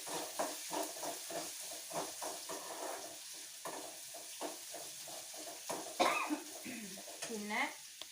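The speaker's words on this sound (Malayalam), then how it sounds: "നല്ലോണം വഴറ്റണം." Small onions sautéing in a pan for a brinjal buttermilk curry, with repeated stirring scrapes and a soft, steady frying sizzle, close and moderately loud, with no talking.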